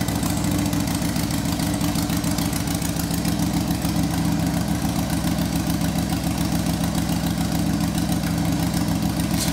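A custom Harley bobber motorcycle engine runs at a steady idle, close and loud, its low, lumpy thumping pulse continuous throughout with no voices.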